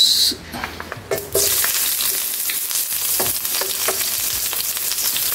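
Chopped red onion fries in a hot pan with loud, continuous sizzling, broken by occasional clicks and scrapes of stirring.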